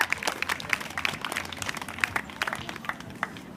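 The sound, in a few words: audience applause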